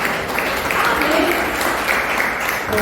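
A church congregation claps loudly in a continuous, dense patter of applause that holds steady and close throughout.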